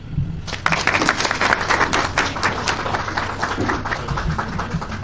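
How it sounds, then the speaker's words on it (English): A large audience at a formal UK–Nigeria education partnership signing ceremony at UNILAG breaks into steady, dense applause, clapping continuing loudly and evenly throughout with a faint murmur of voices underneath. "Please give me a round of applause"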